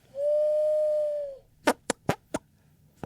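A person's voice imitates a pigeon or dove call with one long, steady whistled hoot, then several short, sharp sounds follow. The imitation is close and fairly quiet, with no talk over it.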